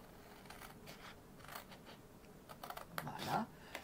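Box material, likely card, cut by hand for a box with a front opening, giving scattered crisp snips and scratchy cuts that grow louder near the end, with no talk.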